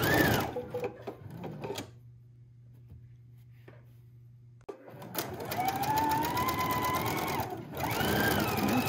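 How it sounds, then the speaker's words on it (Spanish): A sewing machine runs in two fast bursts while stitching a seam about one centimetre from the folded fabric edge, with a quiet pause between them and a loud, steady mechanical whir close by. "vamos a volver a coser como a un centímetro aproximadamente de la orilla."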